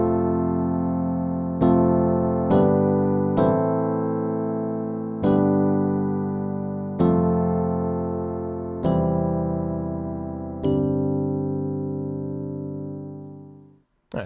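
Solo piano plays the pre-chorus of a song as a series of full, sustained chords struck at a slow pace, each ringing out, ending in a long fade.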